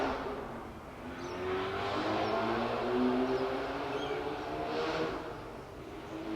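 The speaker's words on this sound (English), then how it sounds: "noisy cars" Noisy cars passing on a road, a continuous rumble of engines rising and falling as vehicles go by, with steady traffic noise and no voices.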